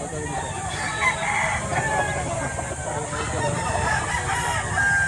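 A gamefowl rooster crows nearby at a rooster seller's farm in Batangas, over a busy background of other birds and faint voices.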